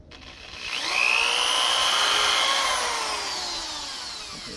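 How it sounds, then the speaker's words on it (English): A power drill spins up and whines steadily as it drives a bit into wood while a gate is being hung, a rising tone that holds for a few seconds and then slowly winds down, close and alone. "Extend the drill bit a little bit."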